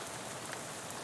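Steady rain falls in the video game Shadows Over Loathing, a dense, even hiss of drops that is soft and continuous, with no voices over it.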